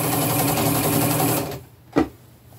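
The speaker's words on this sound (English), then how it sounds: "And just sew through all those layers." A sewing machine stitches through several layers of fabric in a steady, rapid whir for about one and a half seconds, then stops, followed by a couple of brief knocks.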